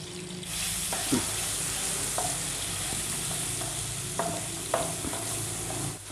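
Steady close sizzling of garlic and ginger paste frying golden in a pan, with occasional scrapes and clinks of a utensil stirring.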